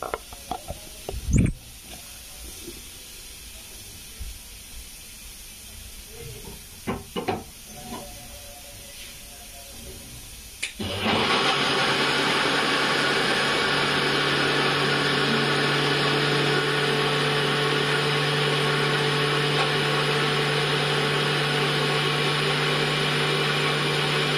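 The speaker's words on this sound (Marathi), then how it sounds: "मस्तपैकी असं मिक्सर मध्ये बारीक करून घेऊता याला।" A mixer grinder grinds semolina (rava) for a rava cake. After a quiet stretch with a few soft handling clicks, the motor starts halfway through and runs as a loud, steady whirring whine until the end.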